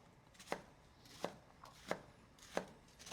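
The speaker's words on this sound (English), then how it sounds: "So once I've cut crosswise, I'm just going to turn the onion sideways and do the same thing, just straight down." A knife chops through an onion on a board in five distinct, evenly spaced strokes, each a crisp close thud against quiet background.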